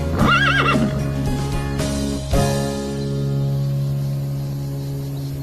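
A horse gives a loud, close whinny at the start, followed by a thud and a few hoof knocks, then a lingering background tone.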